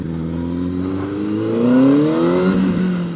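A CFMOTO 750SR-S motorcycle engine, a bike of about 213 kilograms, revs up with a rising, steady tone that swells mid-way and then levels off, heard close and alone with no talk.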